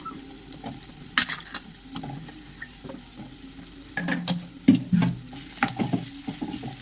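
Potatoes frying in a pan for a fenugreek-leaf potato curry, with soft sizzling and scraping, clinking stirs of a utensil against the pan, near and fairly quiet, no talking.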